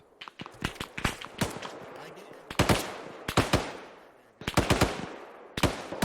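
Mortar shells land in the Arma 3 military game as a run of sharp, loud blasts and cracks in quick bursts, with short pauses between volleys.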